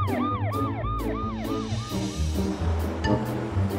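A cartoon fire truck siren wails in a rapid rising-and-falling pattern, loud and close, repeating several times before fading into engine and background noise.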